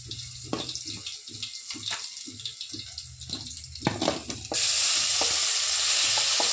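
Ginger garlic paste frying in a pan while being stirred, with scraping stir strokes and crackling sizzle, then a sudden steady loud hiss takes over for the last couple of seconds.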